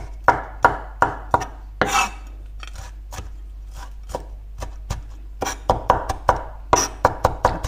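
A knife finely chops beef for a marinade on a board with sharp, close, crisp strikes. They come in irregular bursts of quick taps with brief pauses, and a low hum sits underneath.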